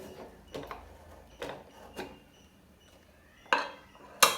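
Metal clinks and clacks from a pressure cooker as its weight is set on the lid while Samai pongal cooks, a handful of short, close knocks spaced irregularly, the last two sharper and brighter.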